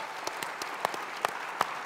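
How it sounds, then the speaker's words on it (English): Audience applause for Yang Berhormat at the SMIDEX 17 opening ceremony, a steady wash of clapping from a crowd with a few sharper claps standing out near the front, no speech over it. "Another round of thunderous applause to Yang Berhormat."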